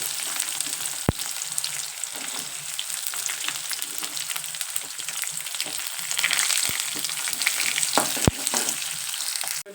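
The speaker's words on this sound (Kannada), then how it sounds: "ಈಗ ಉಳ್ಳಾಗಡ್ಡೆ ಸ್ವಲ್ಪ ಫ್ರೈ ಮಾಡ್ಕೊತೀನಿ." Onions and peanuts frying in a pan with green chillies, a dense close sizzle with occasional stirring scrapes and a few sharp clicks throughout.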